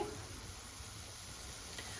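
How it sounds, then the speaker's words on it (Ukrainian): Chopped onion fries in sunflower oil in a pan for borscht, giving a steady, even sizzle and hiss close by, without pause and with no voices. "Спочатку смажимо цибульку"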